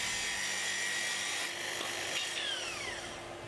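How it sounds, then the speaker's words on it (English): A Makita SP6000 plunge saw on a guide rail makes a full depth cut through veneered board, a loud steady high whine that dips briefly as the blade bites, then a slight falling pitch as the cut runs out. "Now release the stop and make the full depth cut."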